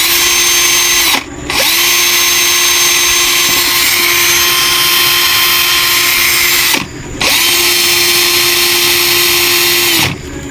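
A cordless power drill with a freshly repaired battery whirs loudly at steady speed, cutting out briefly twice and spinning back up each time.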